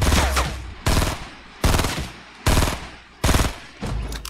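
Five loud bursts of rapid automatic gunfire from a video game, each lasting roughly half a second and spaced evenly, heard up close with no talking.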